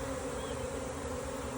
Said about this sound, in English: the bees on the outside are, some are going in and some of them are staying out